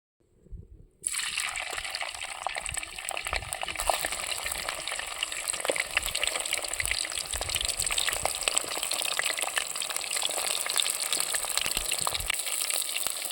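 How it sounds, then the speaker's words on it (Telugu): Cleaned prawns hit hot oil with a sudden loud burst, then a dense, steady sizzle and crackle of frying carries on unbroken and close by, with no voices. "ముందుగా శుభ్రం చేసి పెట్టుకున్న రొయ్యలు నూనెలో వేస్తున్నా"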